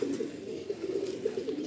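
Pure Andhra Lalshila pigeons cooing close by, a continuous sequence of soft rolling coos at even loudness with no voices.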